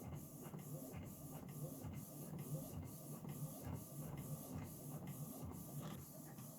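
A home printer runs steadily, printing the outline of a colored-pencil hyperrealistic portrait, with a continuous mechanical whir and a repeating shuffle of the print head moving back and forth at close range.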